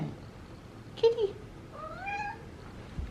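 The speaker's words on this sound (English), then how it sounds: "God, these cats are following me everywhere." Indoor cats meowing near a person, a short close meow followed by a longer rising and falling cry, with a voice heard faintly in the background.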